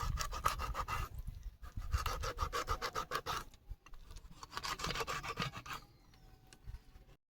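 A knife scrapes and saws across a raw fish, scoring it before frying, in bursts of close rasping strokes with short pauses between.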